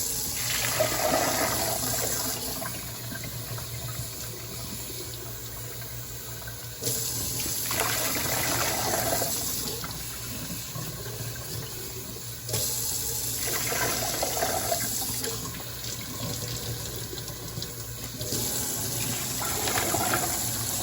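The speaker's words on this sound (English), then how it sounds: "Let's get them in some rinse water, get them dried off, and look at them a little closer." Lake Superior rocks are rinsed in water after a borax and Dawn soap soak, with running, splashing water that surges in repeated bursts of several seconds each and no talking.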